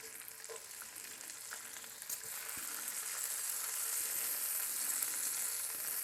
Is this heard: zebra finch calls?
no